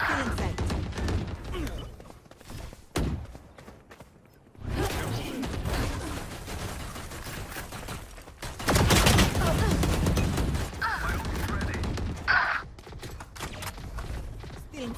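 Gunfire from a weapon in a video game, with rapid bursts of shots and heavy impacts, heard through an AmpliGame H6 gaming headset while a player talks over the action.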